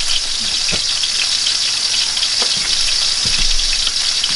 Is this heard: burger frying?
yes